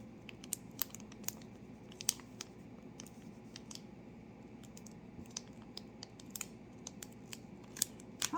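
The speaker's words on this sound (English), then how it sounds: "And it's in a nice crinkly package." Crinkly plastic packaging around an ELF eyeliner is handled up close, with soft, irregular crackles and small clicks over a faint, quiet background.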